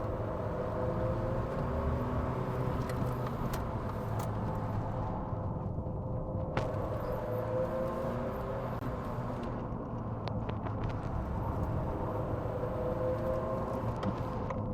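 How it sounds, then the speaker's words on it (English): A Lancia Delta Integrale Martini 5 hatchback with a 2-liter four-cylinder engine drives at speed, a steady droning engine note heard from inside the car, fairly faint and constant with no talk. "I hear the power of that little screaming 2-cylinder, or sorry, 2 liters, 4-cylinder engine."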